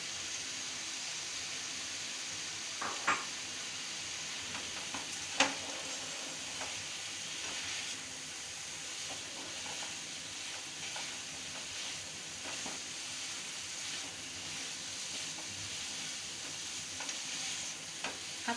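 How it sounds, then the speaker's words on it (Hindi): Shallow-fried cauliflower and potato pieces sizzle steadily in a pan as they are stirred, a continuous close frying hiss with occasional scraping knocks, no voices. "गोभी आलू शैलो फ्राई वाले डाल दूँगी"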